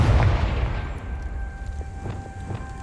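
A Confringo blast spell in Hogwarts Legacy bursts at the start as a deep, heavy boom, then trails off into a low rumbling decay with faint scattered crackles, fairly loud and close.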